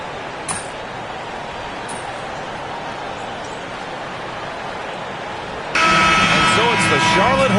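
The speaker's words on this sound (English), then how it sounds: "as the buzzer sounds" A loud, sustained end-of-quarter buzzer in the NBA 2K25 basketball game on PS5 cuts in abruptly over steady crowd noise and holds to the end.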